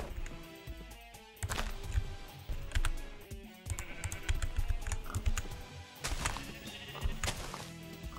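Sheep bleating in the video game Minecraft, several bleats at moderate volume over steady keyboard typing, with no talking.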